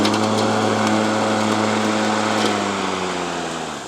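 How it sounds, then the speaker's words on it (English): Mowrator S1 remote-controlled four-wheel-drive lawn mower running steadily with a loud, close, buzzing engine drone that eases slightly toward the end. "So there's the Mowrator S1 4-wheel drive, the very first remote-controlled lawnmower in the world."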